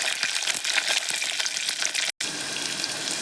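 Green chillies and garlic sizzle in hot oil in a pan for a spicy Tamil yam curry, a dense, close crackling hiss that runs steadily and cuts out for an instant near the end.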